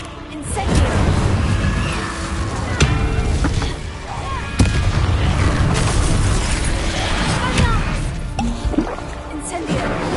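Repeated Incendio fire spells cast in the video game Hogwarts Legacy, bursts of whooshing, crackling flame with thuddy impacts over a busy combat backdrop, with voices talking throughout.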